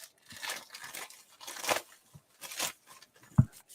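Scissors snipping and slitting open a trading card or hobby package, a series of crisp crinkling cuts and tearing bursts in a quiet room, ending with one sharper snap.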